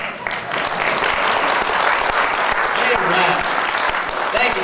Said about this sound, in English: I would give my dad a round of applause for that, huh?